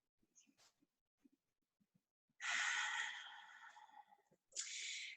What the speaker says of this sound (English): And take another full breath.